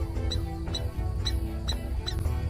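A young female animal gives a repeated alarm call to rouse her clan against a snake, five or six sharp high squeaks at roughly half-second intervals over a low rumbling background.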